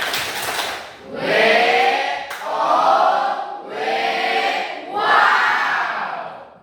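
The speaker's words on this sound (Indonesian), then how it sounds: "kita tepuk wow dulu untuk kelompok 1. Tepuk wow." A classroom group performs the "tepuk wow" clapping chant for another group, calling out loudly together in several long swelling waves of shouted voices. Individual claps are not clearly separated.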